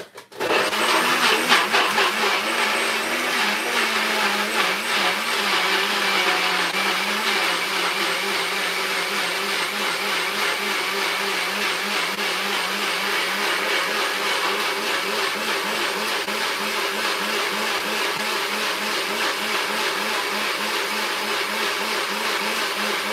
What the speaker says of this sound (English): You want to try and blend it natural.